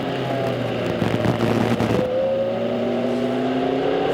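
Onboard audio of an Audi prototype sports car at Petit Le Mans endurance racing, its engine droning loud and steady, then holding a high pitch at the rev limiter.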